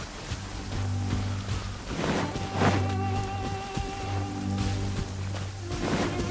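Steady rain falling in the video game Genshin Impact, a dense even hiss of drops continuing throughout, mixed with game music tones and occasional soft thuds, no talk.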